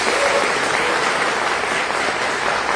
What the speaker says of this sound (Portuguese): Você pode dar um aplauso a Jesus Nazaré?